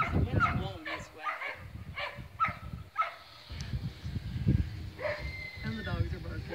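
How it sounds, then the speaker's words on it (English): Dogs bark in short repeated bursts at a distance on a farm during livestock herding, mixed with people talking and wind noise. "And the dogs are barking."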